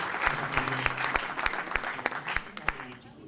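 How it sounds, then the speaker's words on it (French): An audience at an awards ceremony applauding the prize winners, with a burst of close, irregular hand claps that fades toward the end while a voice talks over it. "Vous pouvez les applaudir."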